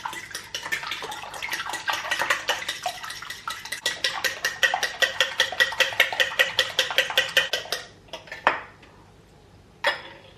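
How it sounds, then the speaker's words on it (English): Eggs with a pinch of salt whisked in a bowl, a rapid close rhythmic clatter of whisk on the bowl that stops near the end, followed by a couple of isolated clinks. "And whisk it together."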